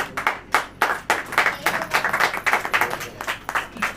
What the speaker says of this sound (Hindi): ताली हो जाइए।